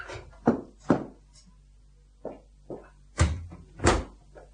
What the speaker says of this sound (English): Let me open the door for you.